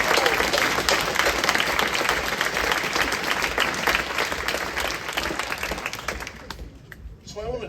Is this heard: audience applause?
yes